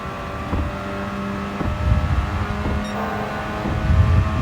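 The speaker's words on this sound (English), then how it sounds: "Keeping it into 4th gear into the tunnel." A race car engine in Gran Turismo 7, held in fourth gear heading into a tunnel, gives a steady loud droning hum with tonal whine that swells slightly toward the end.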